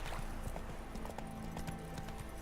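Horse hooves clip-clop steadily at a riding pace in The Witcher 3 game, a continuous rhythmic patter over a soft ambient game background.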